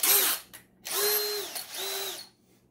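A power drill with a larger bit countersinks screw holes while a Rockston Sideloader pachinko ball lifter kit is assembled, running in three short whining bursts that spin up and wind down, close and clear.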